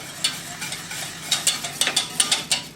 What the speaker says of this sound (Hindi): इन तमाम चीज़ों को मिक्स कर लें और नीचे से फ्लेम को आप कर देते हैं बंद।